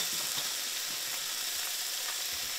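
Eggs frying in a pan, a continuous soft, even hiss of sizzling fat held at a low, steady level with faint crackles and no voices.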